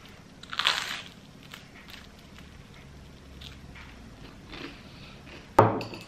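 Crunching bites of wholemeal rye toast topped with avocado, lemon and chili flakes, with a couple of sharp, close crunches separated by quieter chewing.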